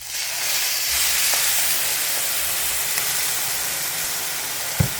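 Steady hissing sizzle as chicken broth hits a hot pan of rice, continuous and fairly loud, with a small clink near the end and no voices.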